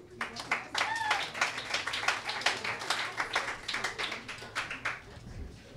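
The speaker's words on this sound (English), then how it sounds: "Big round of applause for Kiya." An audience applauds a rock performer, with steady moderate clapping filling the space and brief voices mixed in.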